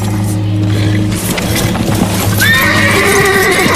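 Horses whinny loudly and close by, a rising neigh standing out over steady hoof clip-clop and a low droning background, with no talk.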